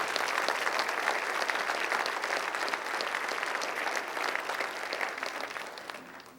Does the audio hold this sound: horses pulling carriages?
no